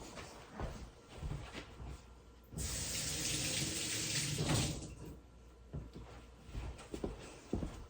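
Water runs from a tap to rinse a jar lid after canning apricot jalapeño jam, a steady close splashing rush lasting a couple of seconds, framed by soft handling clatter and faint kitchen knocks.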